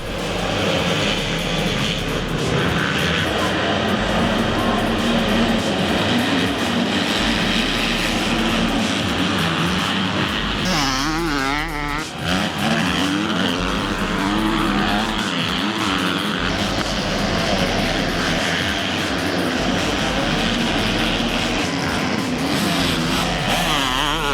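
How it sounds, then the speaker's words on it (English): Motocross bikes race at the start of the second moto at the 2012 WAMX Round 5 at Noble Falls, a loud continuous roar of many engines with revving sweeps throughout, no voices. "Second moto began with another hole shot being awarded to Dean Porter in front of Ashley Whistler"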